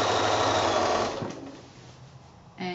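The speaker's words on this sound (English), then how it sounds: "So come and sew pretty much up as far as the point itself." A sewing machine stitches through a giraffe-themed quilt with a loud, steady motor whir for about a second, then slows and fades, and a brief burst of stitching returns at the end.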